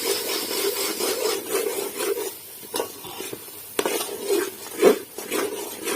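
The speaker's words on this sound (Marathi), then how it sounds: "वाटलेलं वाटण आपण त्यामध्ये टाकणार आहोत आणि छान तेलामध्ये परतून घ्यायचं ते" Ground masala paste sautéed in oil in a pan and stirred steadily, producing a continuous scraping, rubbing stir with soft sizzling and occasional louder scrapes, close and fairly loud, no talking.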